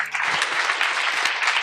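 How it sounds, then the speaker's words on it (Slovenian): Audience applause in a podcast studio setting, a dense steady clatter of clapping hands filling the short moment without any talk. "Dajte aplavz svojemu možu."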